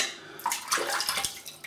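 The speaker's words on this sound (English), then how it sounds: "A little bit more water." Splashing and trickling of water being added into a shaving soap bowl while lathering sandalwood soap, short and close, with a quiet start before the pour begins.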